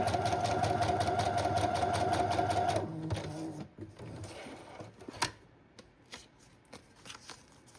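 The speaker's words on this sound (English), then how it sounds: "And then I also like to sew around the flap top." A sewing machine stitches around the flap top of a junk journal in a steady, rapid close-up run for about three seconds, then stops, leaving faint handling and rustling sounds.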